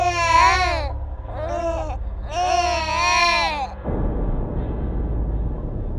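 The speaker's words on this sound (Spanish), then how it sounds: "se escuchó el llanto de un recién nacido" A newborn baby cries in a horror story sound effect, three loud, close wailing bursts with rising and falling pitch over a low rumbling drone that continues alone after the crying stops.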